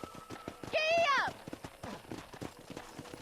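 Horse hooves clip-clop at a riding pace in the Red Dead Redemption game, a steady rhythmic beat under a voice and a short burst of game music.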